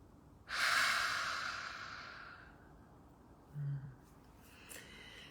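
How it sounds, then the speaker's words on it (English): A single long, deep exhale through an open mouth during a calming breathing practice, a loud breathy rush that fades over two seconds, followed by quiet and a softer breath. "We're going to take 3 more deep breaths here."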